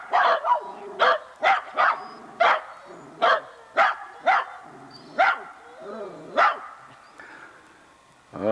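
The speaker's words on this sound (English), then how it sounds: "That's enough loud dogs." Several dogs, including a Rat Terrier, bark in a quick series of sharp, loud barks nearby, with a few whines mixed in before the barking trails off.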